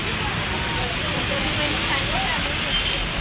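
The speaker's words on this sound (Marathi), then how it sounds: "थोडे भर पावसात बघा बघा पाऊस किती आलाय." Heavy rain falling in a steady, dense roar, loud and close throughout, with faint voices underneath.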